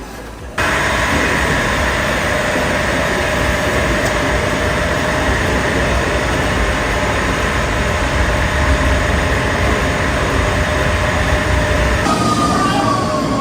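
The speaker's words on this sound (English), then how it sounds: "Yo, this train has seen better days." A worn Rome underground metro train runs at speed, a loud, steady, close rumble and roar from inside the carriage with a high metallic whine over it, lasting throughout after a brief quiet start.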